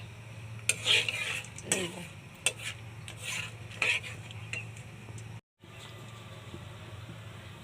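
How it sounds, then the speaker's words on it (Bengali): A utensil scrapes and clinks against a pan while cinnamon, cardamom, cloves and peppercorns are stirred, with a low hum beneath and someone speaking briefly over it. "3 টুকরা দারচিনি, 4টা এলাচ, 4টা লং এবং কয়েকটা গোলমরিচ। এগুলো 1 মিনিটের মতো নাড়া দিয়ে"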